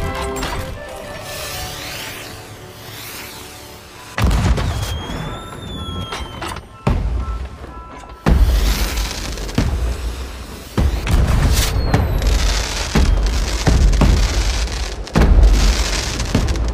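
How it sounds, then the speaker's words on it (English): Fireworks in the pirate game Sea of Thieves burst in a string of loud booms and crackling, rain-like showers, some with whistling rises, continuing steadily with no voices over them. "Enjoy the fireworks."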